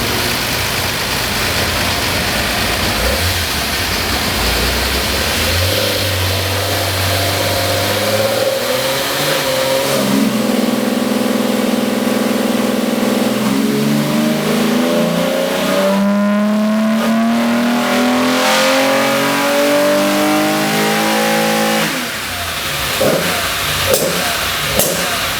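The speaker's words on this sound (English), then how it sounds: "So I'll probably do another pull and then advance the timing, see if it likes it," A Datsun 260Z on a dyno runs up through a long pull, its engine note climbing steadily in pitch from idle to high revs before dropping back, loud and close with no talk over it.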